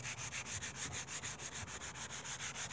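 Quick, even strokes of the fine side of a Dollar Tree sanding sponge scrub across a surface in a steady rhythm of about fifteen passes, faint and close with no talking.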